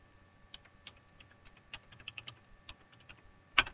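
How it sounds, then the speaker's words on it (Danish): Someone types a web address on a computer keyboard: a quick, uneven run of close, crisp key taps, ending on one louder keystroke like an Enter press. "Du skal åbne en browser og skrive adressen puckursus.dk."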